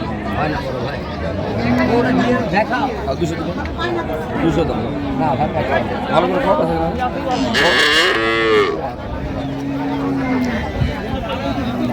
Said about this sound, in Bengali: গাভী